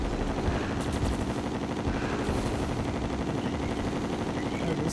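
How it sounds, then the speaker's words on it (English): Continuous rapid gunfire from a player's gun in the Terraria video game, dense and loud with no pauses, layered over busy game effects. "Said I was going to use melee and I'm still using my gun."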